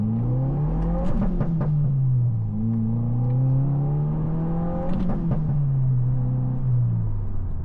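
Stock VB Subaru WRX accelerating hard in first gear with windows up, a loud continuous engine drone rising in pitch, dipping briefly around shifts or lifts, then climbing again steadily.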